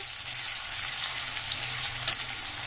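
Chopped onion fries in hot oil as it is stirred, a continuous, close, even hiss and sizzle with faint scraping underneath and no voices.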